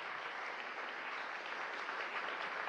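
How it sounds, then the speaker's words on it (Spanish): Steady applause from an audience at a Venezuelan state award ceremony for national cultural figures, a dense, even wash of clapping that holds at a fairly quiet level throughout with no talk over it. "Aura Rivas, nuestro reconocimiento y aplauso"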